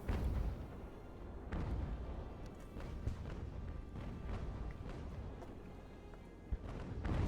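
Naval cannon fire from age-of-sail 4-pounder and 9-pounder guns in Ultimate Admiral: Age of Sail: scattered, fairly faint distant thuds over a low rumble, spaced a second or more apart, with no voices.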